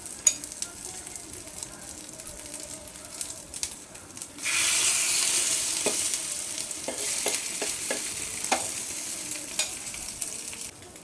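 Egg-dipped bread pakoras sizzle and crackle in hot oil, the frying hiss swelling as pieces drop into the pan and continuing loud, with light stirring clinks over it.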